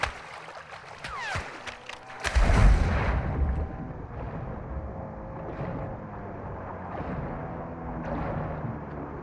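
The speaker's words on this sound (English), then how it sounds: "Somebody's shooting." Gunfire in the video game Call of Duty DMZ: a loud burst of shots cracks out at mid-distance, then trails into a rumbling, windy outdoor ambience with faint further activity.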